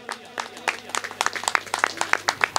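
Audience clapping for an assistant coming onstage at a cultural association's event, a busy run of sharp, overlapping claps in a hall, fairly loud and steady over a low hum.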